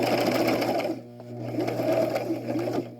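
A sewing machine stitches and backstitches along half-inch bias tape mask strips: a close, steady motor whir that briefly drops away near one second, then resumes and runs continuously to the end.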